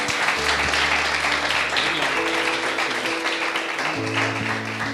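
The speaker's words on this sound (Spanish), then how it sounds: "Esos aplausos son para el Señor Jesucristo" Church congregation applauding steadily and loudly throughout, with a sustained low hum and steady tones running beneath the clapping.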